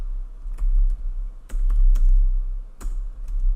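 Close, crisp keystrokes on a computer keyboard, typing a short word in scattered bursts over a low background hum.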